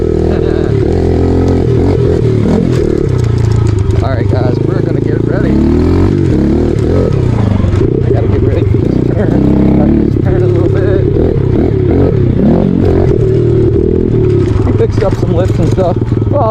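Small dirt bikes, a 2017 Yamaha TTR 110 and a 2007 Kawasaki KLX 143, running loud and close with continuous engine drone and revs rising and falling, plus clatter throughout and no clear talk.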